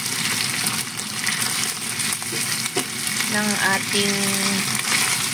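Afritada ingredients frying in a pan, a steady broadband sizzle running throughout with brief stirring clatter and a short tonal squeak near the middle, close and moderately loud.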